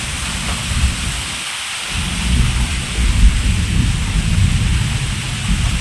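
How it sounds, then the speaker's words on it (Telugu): Loud, dense downpour of heavy rain in a village, a constant wash of noise with a brief dip partway through and no one speaking. "ఈరోజు హెవీగా పడుతుంది వర్షం"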